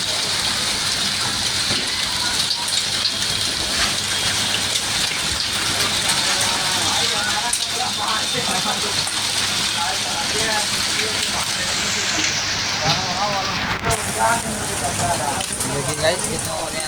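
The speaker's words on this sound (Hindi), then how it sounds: "देखिए भाई कितनी बारिश हो रही है यहाँ पे।" Heavy rain pours steadily in Sadar Bazaar, Agra, during an October downpour with hail, a dense continuous hiss of drops on surfaces lasting throughout, with faint voices in the background.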